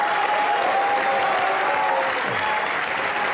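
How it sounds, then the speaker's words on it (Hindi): Studio audience applause for Dilip Sahab on a comedy talk show, a dense, loud, continuous wash of clapping with a faint tone running through it. "दिलीप साहब के लिए एक बार जोरदार तालियां"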